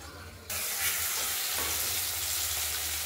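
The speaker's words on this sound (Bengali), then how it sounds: "চাল কুমড়োর একটা দিক দুদিকে ভাজা হয়ে গেল" Ash gourd slices stuffed with poppy seed paste frying in oil: a quiet start, then a sudden loud, steady sizzle that keeps crackling close by, with no talk over it.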